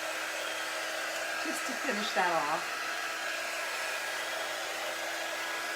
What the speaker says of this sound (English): Now I like to hit it with the heat dryer or the quick dry tool too